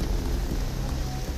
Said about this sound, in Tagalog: Sobrang lakas yung ulan nga.